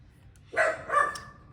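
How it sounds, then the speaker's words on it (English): A dog indoors gives two quick, fairly soft barks in a row, with a faint tail after them over a low room hum. "we're going to have to go through this with her barking"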